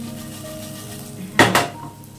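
A couple of quick clattering clinks of a utensil against a pan and bowl as fried ivy gourd is scooped out into a bowl in a home kitchen, near and fairly loud over a low background hum.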